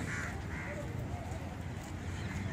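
Crows caw repeatedly on a Mumbai beachfront along Carter Road, their harsh calls rising over a constant roar of wind, surf and city noise.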